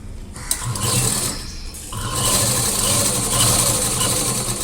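A sewing machine top-stitching a folded neck strip on a blouse, running in a steady mechanical whir with a rhythmic clatter, close and loud, pausing briefly in the middle before resuming with no talk.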